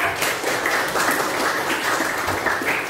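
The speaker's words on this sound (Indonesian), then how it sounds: "aplaus tepuk tangan untuk kelompok 2" A classroom group applauds the second group after its presentation, a steady wash of hand clapping at moderate volume that lasts throughout.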